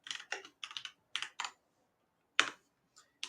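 Someone typing a command on a computer keyboard: short clusters of crisp key clicks close to the microphone, a quick burst, a pause, then a few more taps in a quiet room.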